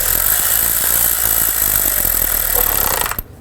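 A power tool whirs loudly and continuously while snugging down valve cover bolts on a 2005-2015 Nissan Xterra engine, then cuts off abruptly after about three seconds.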